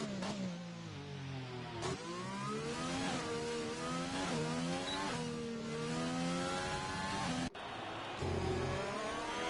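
Alfa Romeo Formula 2 car on a hot lap around the Singapore circuit in a racing sim: the engine screams loud and steady, rising through the gears with brief dips at each shift and a short cut near the end.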